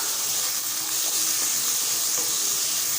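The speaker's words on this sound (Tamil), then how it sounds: "ஒரு ரெண்டு நிமிஷம் சேர்ந்து வதங்கட்டும்" Carrot and finely chopped tomato sautéing together in a pan, giving a constant dense sizzling hiss close up with no pauses and no talk.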